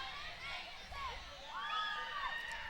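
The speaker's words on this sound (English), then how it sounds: "Got a little cheering going on here." A crowd of all ages cheers along a town parade route during Manitou Days, with scattered high shouts and whoops rising over steady background chatter, moderately distant and soft.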